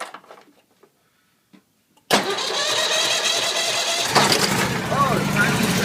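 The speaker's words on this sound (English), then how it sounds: "a cold start on my Cadet Lawn Tractor Series 2000" A Cub Cadet Series 2000 lawn tractor, unused for three months of winter, is cold-started with the choke out. After about two seconds of near silence the starter catches and the engine fires into a loud, steady run up close.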